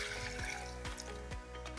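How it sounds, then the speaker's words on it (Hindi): About 250 millilitres of milk being poured into a pan, a steady close liquid gurgle and splash that runs on continuously with small bubbling surges. "ये हमने दूध डाला"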